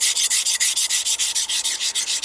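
Chef's knife rubbed back and forth on a 200 grit silicon carbide stone with slurry, a steady rhythm of about a dozen quick gritty scraping strokes, close and clear with no voices.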